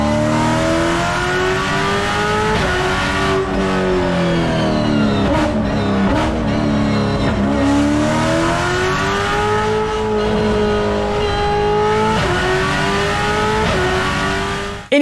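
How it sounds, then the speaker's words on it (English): A race-car version of the seventh-generation Ford Mustang roars loudly through its exhaust, the engine revving and shifting, with rising and falling pitch sweeps across a continuous, close run. "The soundtrack is of a, I think, race car variant of this 7th generation Mustang"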